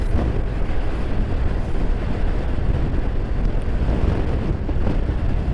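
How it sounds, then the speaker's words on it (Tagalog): Wind buffets the microphone on a road near San Luis, a loud, steady low rumble that persists throughout with no voices heard. "Hangin."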